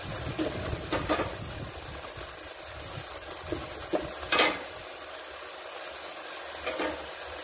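Eggs frying with mudakathan keerai (balloon vine greens) in a pan give off a soft, steady sizzle, with a few faint utensil clicks and scrapes scattered through.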